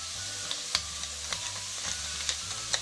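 Onion and carrots with a pinch of salt frying in a pan, a steady close sizzle with occasional sharp clicks and scrapes of stirring, no talk.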